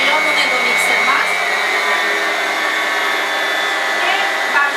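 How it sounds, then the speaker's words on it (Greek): An electric hand mixer whirs steadily and loudly up close as it beats apple pie batter made with beaten eggs, yogurt, cognac and water, a continuous motor whine with no break. "Χαμηλώνουμε το μίξερ μας"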